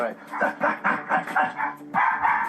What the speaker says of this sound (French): Ça, c'est un aboiement de surexcitation.